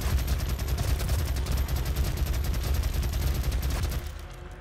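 Rapid continuous gunfire in the video game DOOM, dense loud bursts of shots filling the whole stretch before trailing off at the end.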